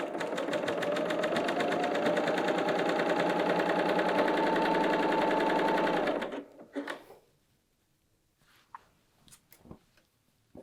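A Bernina L 890 sewing machine stitches a knit dress neckband in a steady fast whirring run for about six seconds, then stops, followed by quiet handling clicks and fabric rustle nearby.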